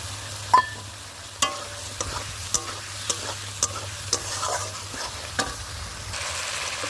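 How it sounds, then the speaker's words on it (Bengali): Boiled potatoes fry in a pan with a continuous sizzle and a low hum underneath, as a spatula knocks the pan in regular taps about every half second. "দেখো ডিমের আলুটা একটু ভাজা করে নিচ্ছি।"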